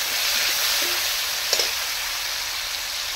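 Chopped tomatoes hit a pan of frying spices with a steady, close sizzle throughout, broken by a brief clink of stirring midway; no one talks.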